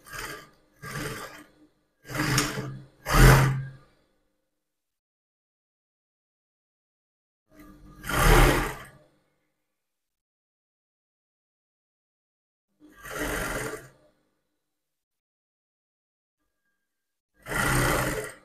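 A sewing machine stitching a waistband onto a contour skirt, running in short bursts, four quick runs and then three longer ones separated by silence, close and moderately loud.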